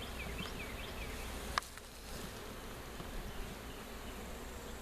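Honey bees and drones hum steadily around a depleted hive after swarming, a continuous low buzz with one brief sharp click partway through.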